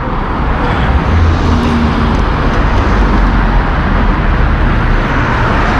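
Shuttle buses and other traffic pass in front of a hotel in Mecca by day, giving a loud, constant wash of road noise and engine rumble with a faint low engine tone, and no one talks.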